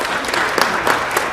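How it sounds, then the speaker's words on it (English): An audience applauds at an Oklahoma Municipal League ceremony, dense steady clapping from many hands that sounds close and fairly loud, with no voices over it. "let's give them another round of applause."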